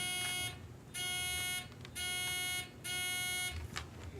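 Four bursts from a quiz bowl buzzer, each a harsh steady electronic tone of roughly half a second to a second, separated by short pauses in a quiet room with faint background shuffling.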